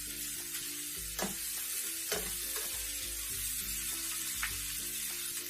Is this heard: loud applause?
no